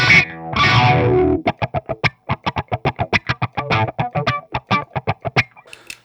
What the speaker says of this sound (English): So the first thing you're going to want to do with the wah pedal is get a sort of accurate funky sound.